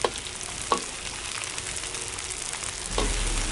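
Fermented black beans (douchi) stir-fry in hot oil with a continuous close sizzle, broken by a few sharp scrapes of the spatula against the wok near the start and again toward the end.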